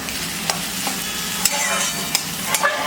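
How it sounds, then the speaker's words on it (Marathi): Onion sautés in a pan for a dried-fish chutney, a steady sizzle broken by several sharp clicks and scrapes from stirring, close and fairly loud. "तिकडं आपला कांदा पण परतून होतोय।"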